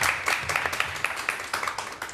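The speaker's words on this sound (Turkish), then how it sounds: "Bir alkışlar sizden alacağım." Audience applause at a Crimean Tatar stage program, heard as a fairly quiet, steady run of rhythmic claps at about four per second, carrying on for the whole stretch.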